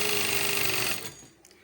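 Sewing machine running steadily while stitching the waistband edge of a ladies' trouser, a loud continuous whir that stops abruptly near the end, with no talk over it.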